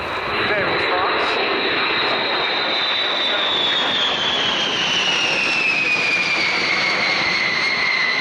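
B-52 Stratofortress bomber flying past at the RIAT 2009 airshow, a loud, continuous jet engine roar whose pitch slowly falls as it goes by, with a voice talking over it.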